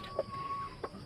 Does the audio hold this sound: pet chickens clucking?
yes